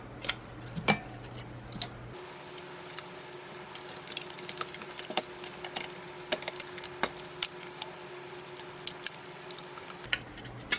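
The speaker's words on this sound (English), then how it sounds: "I like to cut mine at an angle so there's a little bit of overlap." Scissors snipping through leather trim for a brass and leather steampunk computer mouse, giving a series of small sharp crisp clicks and cuts up close with a low steady hum underneath, no voices.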